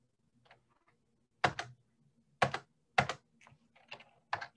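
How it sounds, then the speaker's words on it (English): Computer keyboard typing during a Linux command-line session, heard as scattered sharp key clicks and a few louder taps in irregular bursts, fairly close and quiet, with no talking. "I'm typing then."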